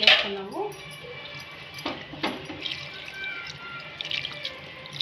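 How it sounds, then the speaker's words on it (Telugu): Water is added to cauliflower gravy in a pan, with a brief splashing pour at the start followed by soft clinks, drips and light stirring sounds close by. "కొద్దిగా నీళ్ళు వేసుకున్నాము."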